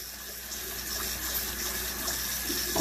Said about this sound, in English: Got the water on pretty, trying to get it hot,